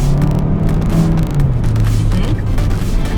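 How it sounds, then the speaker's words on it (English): A 2021 Kia K5 in sport mode accelerates with a loud engine whose low growl rises in pitch, heard close and continuous from inside the car with road noise underneath. "I love how it sounds when I step on the gas"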